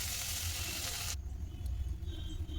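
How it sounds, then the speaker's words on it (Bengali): Potato frying in a pan with dabeli masala, a broad hissing sizzle that cuts off abruptly after about a second, leaving a quieter low sizzle and stirring rumble. "ভালো করে ফ্রাই করে নিলাম।"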